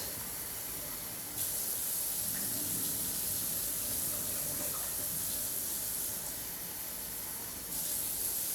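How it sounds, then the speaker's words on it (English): Running tap water splashes over rice being rinsed in a kitchen to wash off the starch, a steady hissing stream that sharpens partway through as the flow changes. "want to rinse your rice until the water's no longer foggy"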